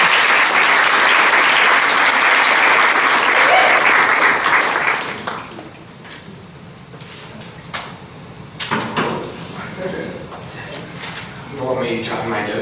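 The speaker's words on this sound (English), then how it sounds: "you guys put your hands together again for him" A church congregation claps for a youth speaker at a Sunday service, loud sustained applause filling the first five seconds, then fading into scattered claps, shuffling and a few thumps as the room settles.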